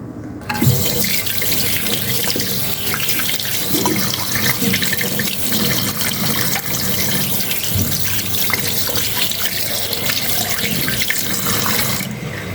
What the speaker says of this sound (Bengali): আমাকে হাতে ওয়াশ করে নেবো